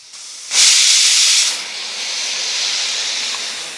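A pressure cooker on the stove during biryani cooking lets out a loud, sharp burst of hissing steam that lasts about a second. It then settles into a steady, softer hiss that carries on alone.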